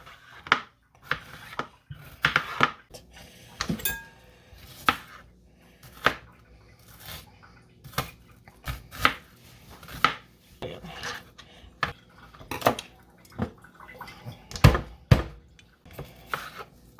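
A knife chops a seeded yellow bell pepper into strips on a cutting board, irregular crisp thuds and scrapes spaced about a second apart, close and moderately quiet with no talking.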